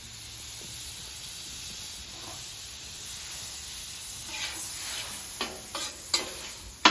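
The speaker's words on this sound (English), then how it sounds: "So we're just gonna throw a couple knobs of butter down." Knobs of butter sizzle on a hot flat top griddle beside biscuit dough, a soft, steady frying hiss with scrapes and clicks of a utensil building toward the end.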